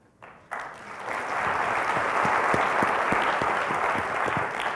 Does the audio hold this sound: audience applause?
yes